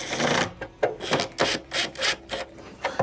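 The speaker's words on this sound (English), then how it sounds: "Then we'll reinstall a few of our screws." Screws are driven back into the plastic top of a clothes dryer, likely with a power driver, in a series of short whirring bursts with brief pauses between them, close and moderately loud.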